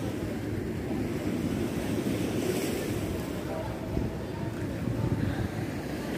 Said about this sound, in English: it's the ocean for me